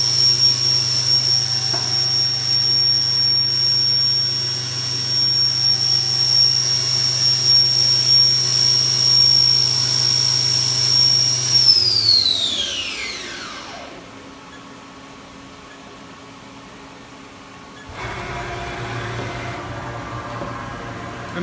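A Haas VF-6 vertical machining center spindle running at 7,500 RPM gives a loud, steady high whine over a constant hum. It then spins down with a falling pitch into near silence before a lower hum returns.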